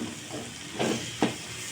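Bitter gourd with shrimp frying in hot oil as the gourd's water cooks off, a soft steady sizzle broken by two louder stirring scrapes near the end.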